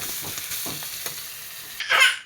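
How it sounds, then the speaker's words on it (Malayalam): Grated coconut mixture for onion chutney (ulli chammandi) sautéing in a pan, a steady close sizzle with scraping stir strokes, swelling into a brighter hiss near the end. "ഇതെല്ലാം കൂടി ഒന്ന് നന്നായിട്ടൊന്ന് വഴറ്റണം."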